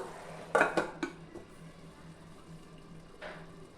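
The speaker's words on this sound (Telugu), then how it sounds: "ముందు ఇది మగ్గాలి. ఇంకా మూత పెట్టేసుకుందాం." A metal lid set onto a cooking pot of panaganti leaf and toor dal fry, a couple of quick clanks close by followed by quiet simmering and a faint later clink.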